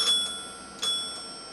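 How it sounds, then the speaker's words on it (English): A mechanical ringer in a telephone on a PABX intercom setup, working very poorly: two brief, faint bell-like dings spaced apart, each fading quickly, with nothing else in the room. "This has a mechanical ringer,"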